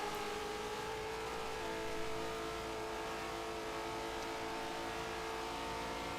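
Race car engines in a sim racing endurance event at Indianapolis, a dense steady drone of several cars running side by side at moderate distance, no voices.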